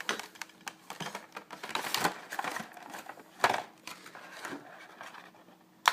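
Adhesive tape is cut and pulled on a figurine package, with sharp scraping snips and crackles between quieter handling noises, close and fairly faint.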